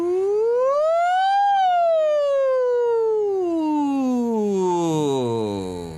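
A single voice glides up to a high pitch and then slowly slides back down, imitating a siren, loud and close.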